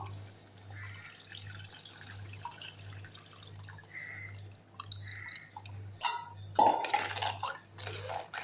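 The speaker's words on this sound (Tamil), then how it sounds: "கரைச்ச புளியை வந்து தண்ணியாக தான் இருக்குது இதிலே ஊற்றிடுவோம்" Diluted tamarind water poured into a pan while making a dry ginger and pepper kuzhambu, soft liquid trickles and drips over a low hum, ending with a few louder splashes and clinks.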